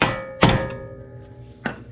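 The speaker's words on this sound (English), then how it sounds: "you want to hammer that in a little bit so it goes down into there so that it doesn't back out" Hammer blows tapping a stopper into a Subaru brake rotor during a CV axle replacement, three sharp metallic knocks at uneven intervals, close and alone.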